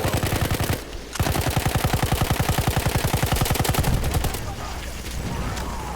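Rapid automatic gunfire rattles in fast, dense bursts in Battlefield 1, loud and close, with brief pauses between strings of shots.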